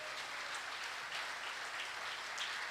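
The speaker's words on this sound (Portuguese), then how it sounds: "Dá um aplauso ao Senhor pela vida deles." A church congregation applauds the Lord during a service, a dense, even wash of clapping that holds steady from start to finish with no voices.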